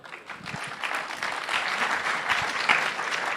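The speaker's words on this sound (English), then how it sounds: "Give another round of applause." Applause from an audience at an entrepreneurship kickoff event, a steady crowd of clapping hands that swells slightly and holds at moderate loudness, with a faint voice mixed in.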